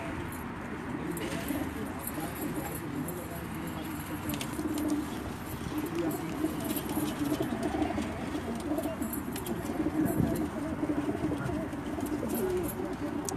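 Pigeons coo steadily on a rooftop loft in Jeddah, Saudi Arabia, a low continuous murmur from many birds that runs for the whole stretch, with people talking faintly underneath.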